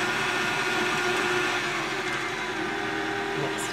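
Butter and muffin batter being mixed with an electric mixer, a steady whirring motor drone running loud and continuous throughout with no talking.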